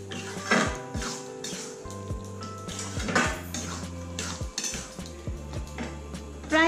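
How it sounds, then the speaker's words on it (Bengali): Hog plum pickle being stirred with sugar and roasted spice powder, a utensil clinking and scraping steadily against the pot in rapid, repeated knocks, close and fairly loud with no talk. "এখন এই মশলা, চিনি আর এই আমড়াটা ভালো করে নাড়াচাড়া করে মিশিয়ে নিতে হবে।"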